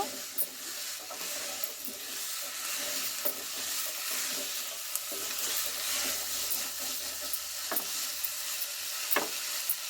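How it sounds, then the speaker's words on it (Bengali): Ridge gourd greens being sautéed in a hot pan, a steady loud sizzle and hiss with occasional scraping stirs and light taps of a utensil, with no voices. "তো ঝিঙে শাকটা আমি দিয়ে দিলাম। শাকটা দিয়ে আমি কষিয়ে নেব।"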